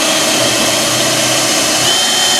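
A power drill runs continuously at full speed while boring a pilot hole for a hydroponic RDWC build with 2-inch piping, loud and close, a steady high whine with no pauses or talk.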